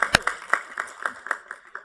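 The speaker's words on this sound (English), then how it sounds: "You don't have to clap." Audience at a university board of trustees meeting breaks into brief, steady clapping, a run of sharp rhythmic claps close by that thins out over a couple of seconds with no talking.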